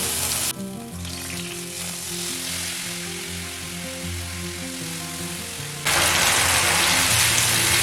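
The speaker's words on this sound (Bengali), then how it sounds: "এখন এই মশলাটা আমি কড়াইয়ের মধ্যে দিয়ে দিচ্ছি আর দিয়ে দিচ্ছি সামান্য পরিমাণ জল।" Spice paste and a little water hiss and sizzle in a hot kadai for a vegetarian raw-banana dish, a continuous frying crackle under soft background music that grows louder near the end.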